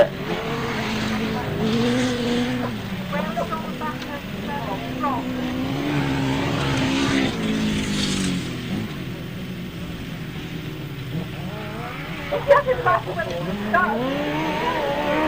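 Sidecar motorcycles race on a grasstrack at the 2003 Salisbury Sizzler, engines roaring and shifting pitch as they power through bends, a continuous loud racing drone with a commentator talking over it.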